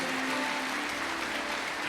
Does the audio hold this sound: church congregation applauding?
yes